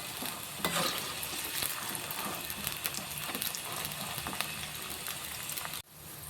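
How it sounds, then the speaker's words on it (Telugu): Sliced okra (bendakaya) fried in small batches in an oil pan gives a steady close crackling sizzle with occasional stirring clicks, then a brief sharp drop near the end; no one speaks. "మొత్తం ఒకేసారి వేసుకోకుండా కొంచెం కొంచెంగా వేపుకోండి, అప్పుడే బెండకాయల్లో ఉన్న జిగురు పోతుంది."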